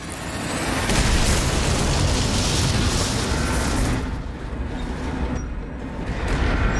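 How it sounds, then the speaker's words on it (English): Bomb explosion in Dishonored, a loud dense roaring blast that fills the whole clip and eases slightly near the end. "there's like certain positions you can stand in here where the explosion gets you"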